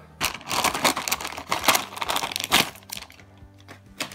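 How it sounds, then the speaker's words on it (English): Crinkly sealed plastic bag being cut open with scissors, rustling with snipping and crunching cuts in quick bursts, close up, then quieter handling toward the end. "So excited I can't even use the scissors properly."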